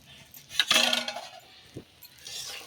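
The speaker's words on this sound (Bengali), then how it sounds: "এখন আমি ঢাকনাটা খুলে দেখে নেব" A metal pan lid lifted off a pan of egg pizza, giving a bright clinking scrape followed by a brief clink and soft sizzling.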